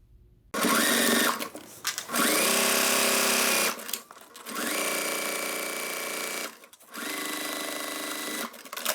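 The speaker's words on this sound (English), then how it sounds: "Now we're going to sew along here." A sewing machine stitches a pocket onto a bag in three long, steady motor bursts separated by short pauses, whirring loud and close with no talking.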